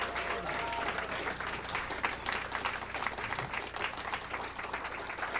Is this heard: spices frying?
no